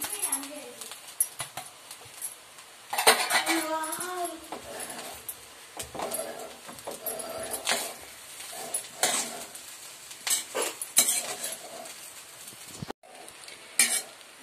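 A spoon scrapes and stirs fried rice seasoned with salt, chili powder and turmeric in a sizzling pan, with repeated rhythmic scrapes and clanks over a light frying hiss, while a voice talks at times.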